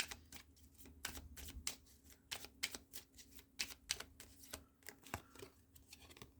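Tarot or oracle cards being shuffled by hand: a string of soft, close riffling and snapping slaps in an irregular rhythm, fairly quiet, with no talking.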